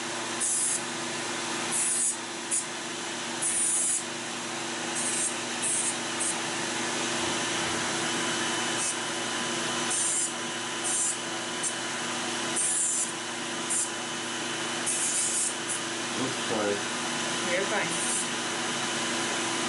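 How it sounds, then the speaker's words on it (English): An electric nail file buzzes steadily against the tips of thick toenails, a close constant whine that pulses as it touches and lifts off the nail, with a voice speaking briefly near the end. "You're just smoothing off the tip of your nails there."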